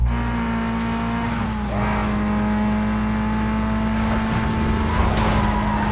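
Racing car in Need for Speed: Most Wanted driving on full nitrous boost, with a continuous loud engine drone and some tire noise running throughout.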